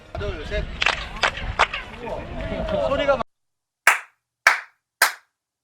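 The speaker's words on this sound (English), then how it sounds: "crowds grow quickly and never stop clapping at the expense of their guide" Tourists clap at the Chichen Itza ruins in Mexico: several sharp claps ring out over a busy crowd with talk, then three isolated loud claps sound alone with echoing tails after a sudden drop to near silence.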